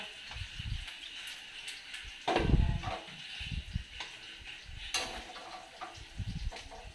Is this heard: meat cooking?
yes